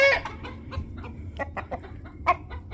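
Chickens and a rooster imitating a laying hen cluck in a busy, uneven series of short squawks and clucks nearby, one louder call standing out, with no talking.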